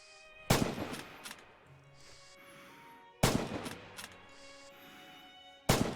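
A scoped Kar 98 bolt-action sniper rifle fires in the Red Orchestra 2 Stalingrad game. Three sharp, loud shots ring out, spaced a few seconds apart, each followed by a decaying echo and the metallic clack of the bolt being worked.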